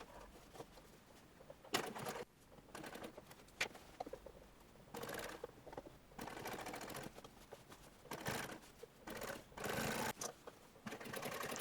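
A sewing machine stitches through several layers of dress fabric in bursts, each run loud and close with a rapid mechanical whirr, separated by short quiet pauses.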